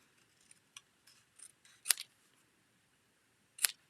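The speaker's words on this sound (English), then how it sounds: "I'm just going to freehand cut my XO" Scissors cutting card stock freehand, a series of soft, close snips with two sharper crisp cuts, quiet in between and no speech.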